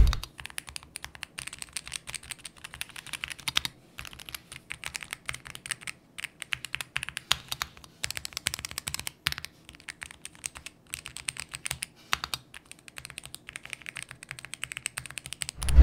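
Typing on a magnetic-switch gaming keyboard with ACO Creamy Yellow switches gives quick, muted, fairly soft key clicks in dense bursts with short pauses, close up and alone.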